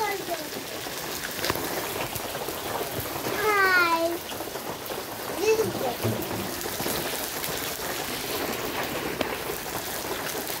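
Steady rain pours down in a dense, even hiss, with a faint voice speaking softly in the background.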